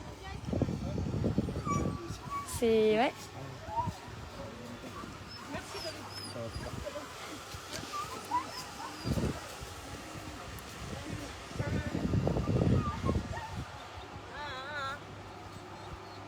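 Sled dogs at the start line of the Vercors Quest race yelp, whimper and bark in scattered bursts, some close and some farther off, while people talk nearby.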